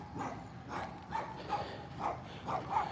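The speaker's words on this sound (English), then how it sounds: "we got a loud dog" A dog barks repeatedly outdoors during a walk, about six evenly spaced barks at moderate distance, fairly soft rather than loud.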